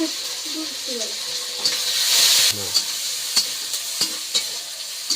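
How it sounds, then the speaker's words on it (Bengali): Onion, green chillies and dried red chillies frying in hot oil for dal, a steady broadband sizzle with a louder surge midway and a few sharp spatters and clinks, with faint voice traces underneath. "তেলে পেঁয়াজ, কাঁচা লঙ্কা, শুকনো লঙ্কা দিয়ে দিয়েছি।"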